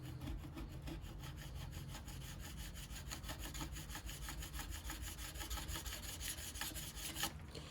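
A scraper drawn repeatedly across a ski or snowboard base repair, a quiet, rhythmic rasping with evenly spaced strokes close by, no talking.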